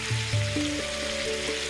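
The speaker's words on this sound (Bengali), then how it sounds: "আমি আলুগুলো আগে ছেড়ে দিই।" Frozen potato wedges go into hot oil for frying, giving a soft, steady sizzle under a couple of brief bubbly tones.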